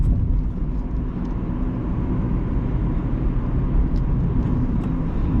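Interior of a 1999 Honda Civic DX with a 5-speed manual on a test drive, a steady loud low engine and road rumble with continuous wind and tire noise and no talk.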